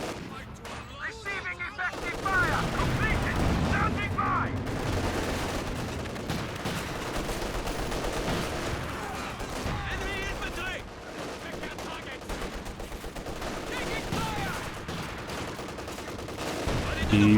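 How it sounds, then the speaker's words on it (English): Sustained machine gun fire and other gunfire from a Company of Heroes 2 battle, with dense overlapping bursts running through the whole stretch under a busy game soundscape. "Even this machine gun can't hold the line here, getting assaulted from too many angles."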